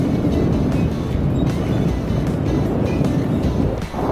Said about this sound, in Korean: 너무 바람 너무 많이 불어.